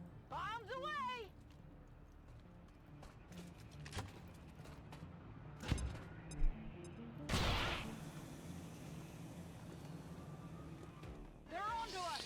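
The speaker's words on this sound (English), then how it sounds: "Okay, let's do the gas grenade right here. Bombs away!" A gas grenade thrown and bursting in the strategy game XCOM 2, heard as a loud whooshing explosion with a hiss of gas mid-clip, among game effects and short clicks, with someone talking over much of it.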